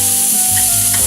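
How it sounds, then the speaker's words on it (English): Steady, close sizzling and crackling of stuffed burgers frying in a pan, with a continuous hiss and a low hum underneath. "Hear that sizzle? That's a good thing."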